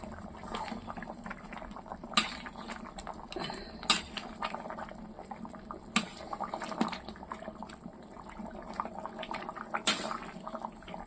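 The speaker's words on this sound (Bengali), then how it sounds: "টক বগিয়ে ফুটছে" Meat curry bubbles in a pot after browned meat was topped up with plenty of water, a continuous busy boil with occasional metallic clinks of utensils, no voices.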